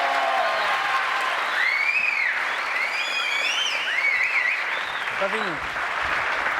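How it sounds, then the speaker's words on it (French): A studio audience applauds a unicyclist's trick with dense, continuous clapping and some cheering, while a voice speaks briefly over it and a few whoops rise above the crowd. "Là, maintenant, on peut l'applaudir."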